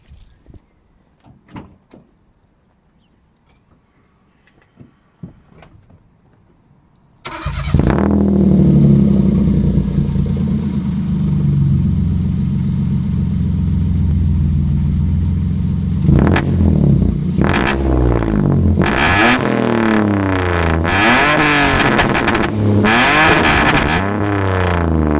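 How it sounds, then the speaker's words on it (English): A modified Toyota Aygo with an exhaust tuned to pop and bang. Keys clink and a door thuds, then the engine cranks and fires loudly, settling into a steady idle before sharp revs with crackling pops near the end. "Let's start it up."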